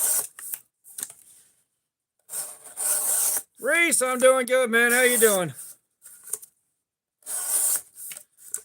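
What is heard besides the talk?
sharpening an Elmax steel knife blade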